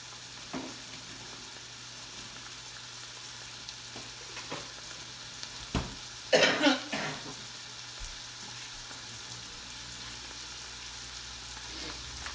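Teriyaki chicken stir fry for yakisoba sizzles steadily in a hot pan, a soft continuous frying hiss broken by a few louder crackling bursts and stirring scrapes.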